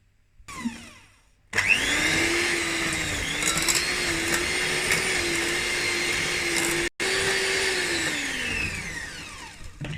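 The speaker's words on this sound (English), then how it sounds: "And I'm going to use just a blender." An electric blender whips chocolate cake batter in a steady, loud drone that starts after a brief rattle, holds its pitch with slight wobbles, and cuts out for an instant before running on.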